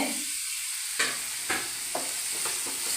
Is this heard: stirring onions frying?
yes